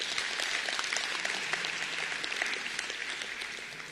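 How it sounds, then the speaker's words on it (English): Applause from a crowd at the closing ceremony of a SADC heads-of-state summit, a dense, steady clatter of many hands clapping continuously for four seconds, fairly distant and gradually thinning toward the end. "maybe we can clap for the Republic of Zimbabwe."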